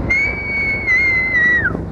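A Vickers Viscount airliner whistles in to land, a single sustained high whistle holding steady and then dropping away at the end, fairly clear and alone.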